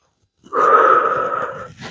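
A forceful breath, drawn in and pushed out during a home dumbbell workout warm-up. It rises suddenly after a moment of quiet, holds as a loud, airy, slightly wheezy rush for over a second, then fades, with a faint second breath starting.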